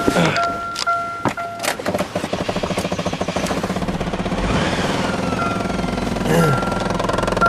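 A 2007 Chevy Cobalt 2.2L Ecotec engine cranks over after a water pump replacement and settles into a steady, loud idle with a rhythmic knocking chatter, continuing without a break and revving briefly near the end.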